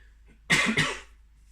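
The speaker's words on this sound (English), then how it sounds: "Sorry, the cough is still there" A single close, harsh cough in two quick bursts, loud against a quiet background, with no talking.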